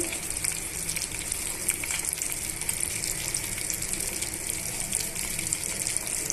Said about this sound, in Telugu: ఒక నాలుగైదు రవ్వలు వెల్లుల్లిపాయలు ఇవన్నీ వేసి బాగా వేయించేసుకోండి